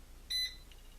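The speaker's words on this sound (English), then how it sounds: "after it's done preheating, it will beep 3 times to let you know that it's done" A Cosori air fryer gives a short electronic beep once preheating finishes, a single brief bright tone over quiet background.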